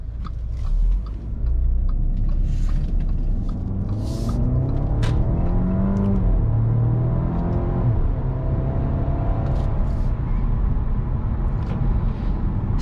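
A 2014 Audi A5 2.0T Premium Plus with 100k miles drives along, its engine and road noise forming a steady cabin rumble with rising and falling revs and no talk.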